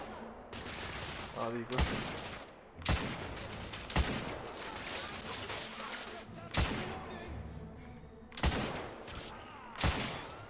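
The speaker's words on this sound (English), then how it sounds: "they're shooting at me, and I'm down ducking in the wood" Gunfire from enemies in The Order: 1886, with sharp loud shots cracking out at irregular intervals between stretches of battle noise, close and forceful, while a player speaks briefly.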